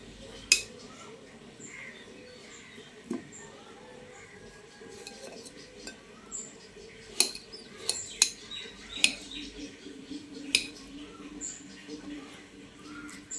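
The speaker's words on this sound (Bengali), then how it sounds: "এবার এই আলুগুলোকে একটু ছোট ছোট করে টুকরো করে নিচ্ছি।" Potatoes being chopped into small pieces with a knife for a meatless masala aloo, heard as sparse, sharp taps against a board, some single and some in quick clusters, fairly quiet over a low room hum.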